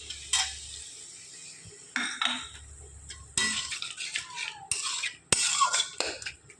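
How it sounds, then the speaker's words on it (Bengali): Metal utensil scraping and clattering in a pan as water is added to a small-fish curry and stirred, coming in short irregular bursts with brief pauses and a sharp clank near the end. "জল দিয়ে একটু নেড়ে ছেড়ে দিচ্ছি"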